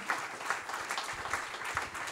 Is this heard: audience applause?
yes